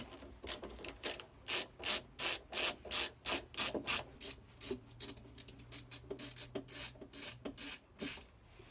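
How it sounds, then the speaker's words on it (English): A screwdriver works on the side panel of a Black & White 3 milk cooler, giving a steady series of rhythmic rasping, ratcheting turns, loud and close, with no talking. "So I'll grab my screwdriver and we'll take this side panel off"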